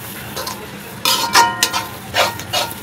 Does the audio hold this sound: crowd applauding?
no